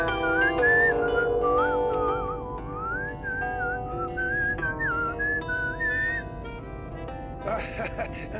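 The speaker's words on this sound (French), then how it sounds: "je sifflotais encore" A character in the French cartoon Mona le Vampire whistles a wandering tune, the melody gliding up and down over steady background music, fairly close and clear for several seconds.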